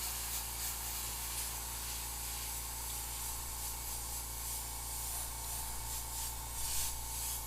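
Airbrush spraying paint onto a skull, a steady close hiss that runs without a break, with no talk over it.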